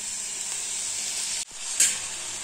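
Tomatoes hit a hot pan for upma and set off a steady, bright sizzle of frying. It drops out for a moment, then comes back with a sharp burst as they settle in. The sizzle is close, continuous and heard on its own.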